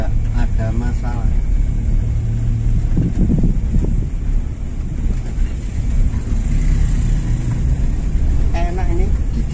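A Toyota Kijang's engine runs with a low, steady rumble as the car creeps slowly along in second gear, with wind buffeting the microphone throughout and no clear gear change.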